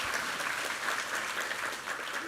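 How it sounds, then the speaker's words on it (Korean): A church congregation at a Sunday morning service claps together in sustained, even applause of thanks and glory, filling the room with a continuous wash of many hands and no voices. "우리 하나님께 감사와 영광의 박수 올려드리겠습니다"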